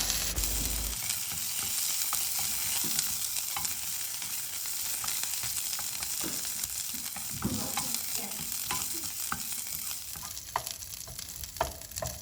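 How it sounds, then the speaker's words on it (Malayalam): Curry leaves and green chillies sautéing in hot oil in a pan, a steady close sizzle with scattered crackles and pops and occasional stirring clinks, no voices. "ഇതിലോട്ട് കുറച്ച് കറിവേപ്പില, അതുപോലെ ഒരു 3-4 പച്ചമുളകും കൂടെ ചേർത്തിട്ട് ഒന്ന് വഴറ്റി കൊടുക്കാം"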